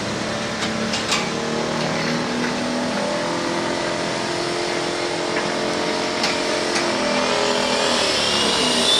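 A pro stock diesel truck at a truck pull holds a steady, loud engine roar throughout, its turbo boost building while the revs stay high and unbroken.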